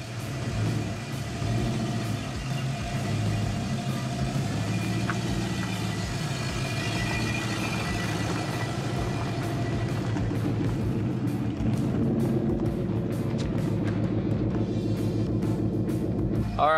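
A Rambler wagon on a swapped chassis, fitted with a Holley carburetor, runs on its first road drive. The engine gives a steady, rumbling drone that holds throughout, with faint shifts in pitch as it moves.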